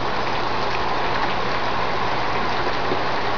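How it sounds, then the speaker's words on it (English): Heavy rain pours down during a thunderstorm in a dense, constant hiss, loud and unbroken, with no voices. "a torrential downpour that is the prettiest thing I've seen in months"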